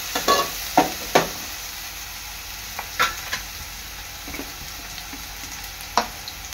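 Onion frying in a pan for a prawn rice dish, a soft continuous sizzle broken by several sharp scraping knocks as a spoon stirs against the pan.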